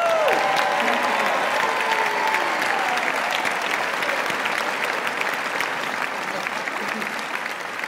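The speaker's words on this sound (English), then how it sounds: "Let's hear it for Pam! Woo!" A live stage audience applauds and cheers for a comedy stage show performer, steady dense clapping that stays loud throughout and fades slightly toward the end.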